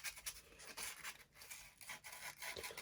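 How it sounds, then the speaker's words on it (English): Sandpaper rubbed by hand over dried glue on the canopy of an X-UAV Mini Talon Pro V2 model aircraft, a quiet, steady scratchy rasping in short back-and-forth strokes, close and faint, with no talking. "Let me try and sand off some of this glue."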